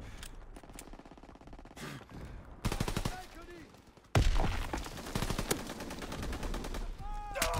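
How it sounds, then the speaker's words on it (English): A machine pistol fires in Call of Duty WW2 in rapid bursts, several volleys loud and close with heavy low-end impacts, and a voice sometimes joins in. "Machine pistol to the back of the head?"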